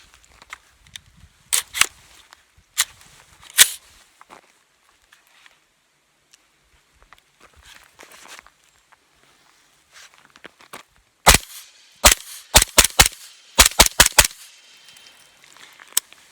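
Suppressed 7.62 rifle firing 220 grain supersonic rounds through an AAC suppressor, with scattered sharp cracks early on and then a quick cluster of loud, close reports near the end, separated by quiet handling noise.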